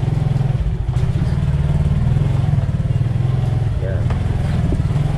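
A motorcycle engine runs steadily up close on a rainy day, a loud continuous low idle rumble with a throbbing pulse, while someone speaks briefly over it.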